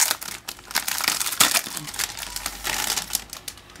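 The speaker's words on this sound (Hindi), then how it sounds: "आपको एक पन्नी के अंदर कैरी बैग के अंदर ये मिल जाएंगी तो इसको निकाल लेते हैं हम" A diary is pulled out of a crinkly plastic carry bag, giving close, dense rustling and crackling bursts that continue steadily for several seconds with no speech.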